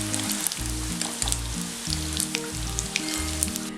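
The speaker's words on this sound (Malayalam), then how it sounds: "ഒന്നും കൂടെ ഒന്ന് ഈ എണ്ണയിൽ കിടന്നിട്ട് ഒന്ന് ഫ്രൈ ആയിട്ടുണ്ട്." Mixed vegetables frying in hot oil for an Indo-Chinese vegetable chilli make a fairly loud, steady sizzle with sharp popping crackles, while a low, rhythmic musical tone runs underneath.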